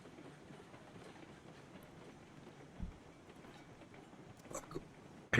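A tiny train on a big engine running on rails in the Railroad Online railroad game, a faint continuous rumble with soft clickety-clack and occasional light knocks.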